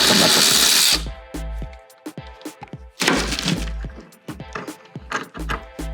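A power tool spinning off 10mm nuts on a Porsche 914 during a lights teardown, starting with a loud whirring burst, then short repeated buzzing spins, clicks and clunks, close up.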